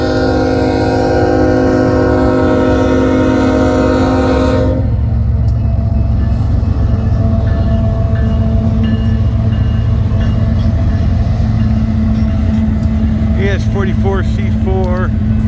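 A northbound BNSF freight train led by an ES44C4 locomotive rolls past on the Sioux City Subdivision in Fremont, Nebraska, opening with a loud sustained horn blast, then a heavy continuous rumble and clatter of wheels on rail, with a few squeals near the end.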